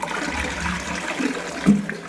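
A bathroom toilet commode, freshly cleaned, is flushed, giving a steady rush of draining water with a gurgle near the end, fairly close and without voices.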